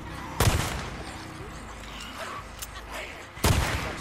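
Two sharp bursts of gunfire in the video game Days Gone, one early and one near the end, with quieter background sound between them.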